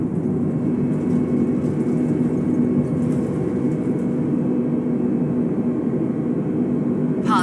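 Airbus A320 jet engines roar steadily at takeoff thrust during the takeoff roll in a flight simulator game, a loud, continuous broadband whir with a faint steady tone, unbroken for the whole stretch.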